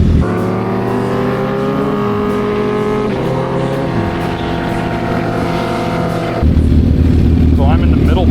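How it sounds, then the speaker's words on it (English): A Honda CBR1000RR inline-four motorcycle engine runs loud and close with steady harmonic droning, shifting pitch as it revs, then settles into a lower, rougher tone near the end; some voice sounds occur over it. "sounds so good having an inline four again"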